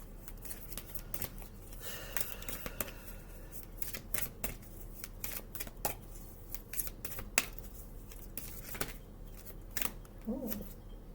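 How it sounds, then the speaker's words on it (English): An oracle card deck, the Fairy Oracle, is shuffled by hand in steady bursts of riffling and snapping card flicks, close and fairly quiet, with brief soft speech near the end. "I'm going to shuffle another deck."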